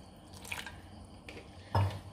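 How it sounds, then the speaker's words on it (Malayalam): Water poured into a bowl of leftover fish marinade paste in a kitchen, heard as a few soft pours and drips with one louder splash near the end, close and without talk. "അതിന് നമ്മൾ കുറച്ച് വെള്ളം ആഡ് ചെയ്യാണ്"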